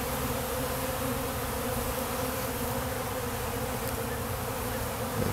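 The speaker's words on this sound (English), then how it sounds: "there's a lot of bees buzzing around the hive here" A dense, steady buzz of many bees flying close around a hive with a Snelgrove board fills the whole stretch evenly, with no voices.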